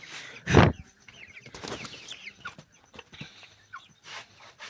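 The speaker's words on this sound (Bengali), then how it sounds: "এই এগুলো হচ্ছে টাইগার মুরগি" Tiger chickens about two months old cluck and squawk nearby on a poultry farm in short, irregular bursts, with one loud flutter or squawk early on and scattered rustling.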